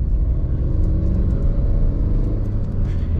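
Tata Nexon compact SUV on the move, a steady low engine and road rumble droning evenly from inside the cabin with no break or talk.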